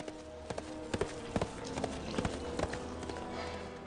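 Horse hooves clip-clopping at a steady trot, a regular series of close, distinct clacks over a faint background, accompanying a King Arthur audiobook narration with no speech during the hoofbeats.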